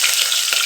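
Onion going into hot oil with mustard seeds, cumin and garlic for a village-style greens curry, frying with a steady loud sizzle and a few stir scrapes, no talk.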